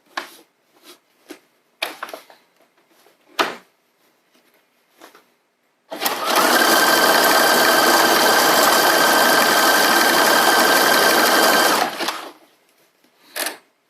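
A sewing machine stitches elastic into pajama pant fabric in one steady, loud, continuous run of about six seconds, preceded by a few sharp clicks and handling taps.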